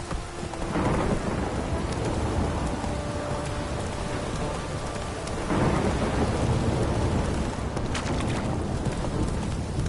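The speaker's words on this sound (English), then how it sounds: "This downpour's a bastard" A heavy rain downpour hisses steadily in The Witcher video game, with thunder rolling and rumbling through the storm; the rain stays dense and close throughout.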